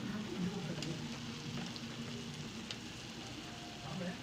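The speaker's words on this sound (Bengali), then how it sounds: "এবার এদিকে আমি ভেজে নেব। এদিকে তেলটাও গরম হয়ে গেছে" Batter frying in hot oil, a soft continuous sizzle and crackle with scattered small pops, faint and close, while someone speaks over it.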